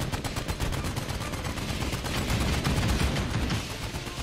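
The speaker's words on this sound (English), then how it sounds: "I'm littering the dead guy's body with shells." Rapid, loud gunfire in the VR shooter Medal of Honor, with dense overlapping bursts of automatic shots running continuously with no pause.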